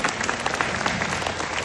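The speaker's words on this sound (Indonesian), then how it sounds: "Tepuk tangan buat Swanghor" An audience at an entrepreneurship seminar claps in a dense, steady burst of applause, loud and even throughout with no talking over it.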